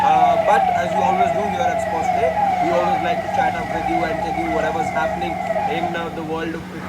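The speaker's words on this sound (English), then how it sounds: "you could hear some, sirens blaring in the background" Emergency vehicle sirens wail outdoors throughout, a steady rising and falling tone running under a man's continuous close speech.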